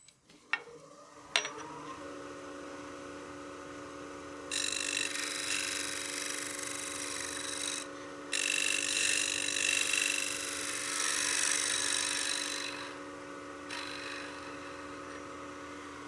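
A scraper smooths the base of a wooden coin box spinning on a lathe, with a steady motor hum under a bright scraping hiss that starts and stops in passes.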